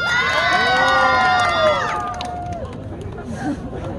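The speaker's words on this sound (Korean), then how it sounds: "여기도 박수 쳐주시고 환호해 주시면 너무 감사할 것 같습니다" A street busking crowd in Hongdae, Seoul, erupts in loud cheering and high shouts and whoops, some sounding like children. The voices ring out together, then fade into lighter crowd chatter with scattered calls.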